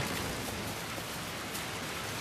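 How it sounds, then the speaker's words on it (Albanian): Rain falls steadily in a dubbed animated episode, a soft, even hiss of drops that is faint and continuous with no voices. "po fillon shiu."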